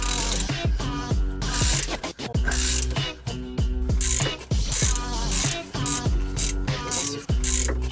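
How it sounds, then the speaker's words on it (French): A ratchet with a socket loosens the two brake caliper mounting screws on a Renault Master, clicking in fast repeated bursts of pawl ratcheting with brief pauses between strokes, loud and close. "Retirez les 2 vis de fixation à l'aide d'un cliquet et d'une douille."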